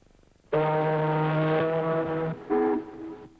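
A deep, loud ship's horn blares in one long sustained blast, then a brief second honk.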